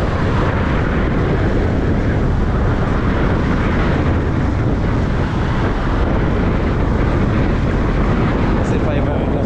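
A fast boat driven by two engines roars along with a dense, loud rumble mixed with heavy wind buffeting and rushing water, continuous and close, while voices can be made out underneath.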